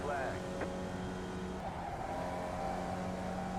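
A Formula Vee race car engine at Lime Rock Park in a racing video game, a steady droning whine that holds through a flying lap, with a brief pitch shift partway through.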